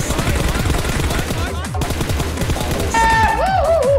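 Rapid bursts of automatic gunfire from PUBG Mobile game combat, dense and loud throughout, with a voice talking over it and tonal game sounds entering near the end.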